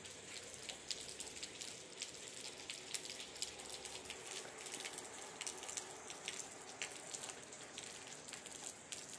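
Rain falls steadily under a cloudy sky, a soft continuous patter of drops on surfaces with occasional sharper ticks, fairly faint and with no voices.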